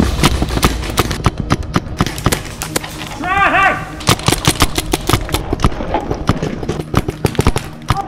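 Paintball guns fire during a paintball match in rapid, irregular bursts of sharp pops, some clustered into quick volleys, with players shouting in between.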